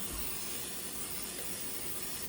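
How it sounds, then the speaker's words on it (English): Kitchen spritzer spraying oil into the bottom of a Dutch oven, a steady close airy hiss lasting about two seconds, heard alone before cutting off. "spray a little bit of oil with my kitchen spritzer into the bottom of the Dutch oven"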